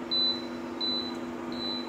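Three short, high electronic beeps, evenly spaced, from the touch-control panel of a slim Japanese domestic double induction cooktop, clear and close over a low steady hum.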